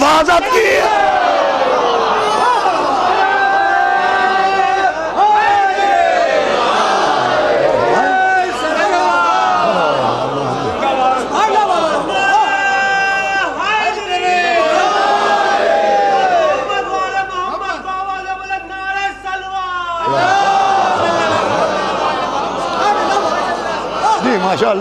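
A large crowd at a Shia religious gathering (shabbedari with fire matam) in Sarfarazganj, Lucknow, loudly chants slogans, many overlapping voices rising and falling in rhythmic shouts throughout, briefly dipping near the end before surging again.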